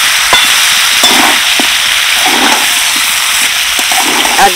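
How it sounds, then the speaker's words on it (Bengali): Fried meat with onion, tomato and vegetables stirred in a hot pan, a loud continuous sizzle broken by occasional sharp pops and soft scraping strokes. "অল্প করে একটু নেড়ে চেড়ে নেবো সবগুলো সবজি আর মাংস।"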